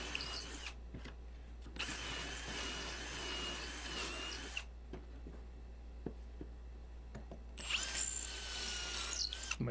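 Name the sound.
drill boring holes in wood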